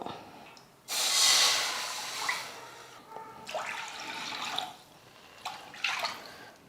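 Water is poured from a tumbler into a cooking pan for rava kesari, a broadband splashing rush that starts loud and then continues in softer, uneven pours.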